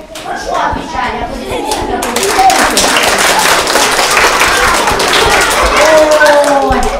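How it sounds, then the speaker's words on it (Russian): Parents and guests at a kindergarten graduation applauding, loud dense hand clapping that builds and swells after the first two seconds, close and sustained, with children's voices and talk mixed in underneath. "аплодисменты"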